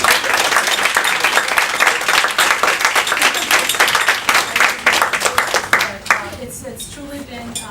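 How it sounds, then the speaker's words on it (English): An audience claps at a Kumon Tarrytown gathering in a steady burst of applause that thins out near the end, with a voice starting to speak as the clapping fades. "Big round of applause."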